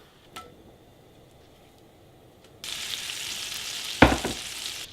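Butter melting in a hot pan sizzles steadily, a broad hissing crackle starting partway through with a brief louder burst near the end, close and with no talking.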